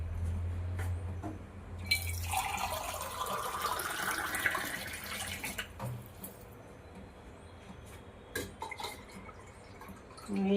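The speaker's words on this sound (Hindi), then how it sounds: "पानी डाल इसमें।" Water poured into a glass of sugar in a home kitchen, a bright splashing stream lasting several seconds before trailing into light drips and clinks, close and fairly quiet.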